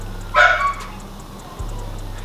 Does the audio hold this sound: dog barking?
yes